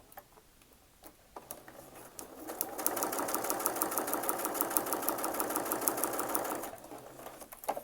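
Sewing machine stitching pieces of a quilt block at a steady, rapid run for about four seconds, close and fairly loud, with quieter handling sounds before and after.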